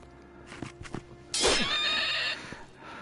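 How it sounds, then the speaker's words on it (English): A flaming horse in the VR game Legendary Tales neighs loudly, a bright, shrill whinny lasting about a second, preceded and followed by fainter thuds and clatter of in-game action. "It's like a flaming horse"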